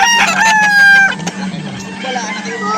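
A rooster crows loudly and close at a chicken sale in Calauan, Laguna, one long call followed by clucking, with people talking nearby.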